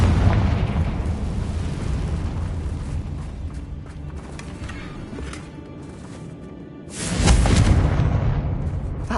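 Confringo fire spell exploding in the Hogwarts Legacy video game, inside a cave: a sudden loud booming blast near the end over steady rumbling background noise, with no talk.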